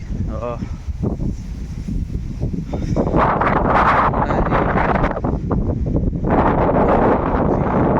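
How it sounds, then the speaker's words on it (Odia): Cold wind blows hard across the microphone in rainy weather, loud rushing gusts that build and surge, with a person talking over part of it. "ଥଣ୍ଡା ପବନଟା କିଆଡ଼େ ଗୋଟେ ବର୍ଷା ହେଉଛି ପବନଟା ପୁରା ଥଣ୍ଡା ପବନଟା ଆଜି ହେଉଛି ଚାରିଆଡ଼େ"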